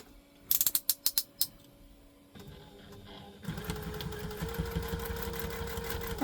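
A few sharp mechanical clicks come first, then a quiet sewing machine runs steadily for several seconds, stitching a Julep tote bag, a soft continuous whirr close by.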